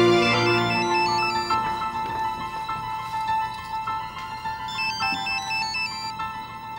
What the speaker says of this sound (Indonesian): Bapak akan telepon Krishna.